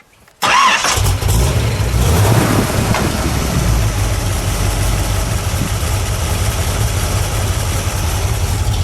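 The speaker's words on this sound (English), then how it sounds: "Let's fire it up." An AMC Javelin SC/Rambler muscle car engine cranks and catches abruptly, then settles into a loud, steady low rumble close by, idling with no voices.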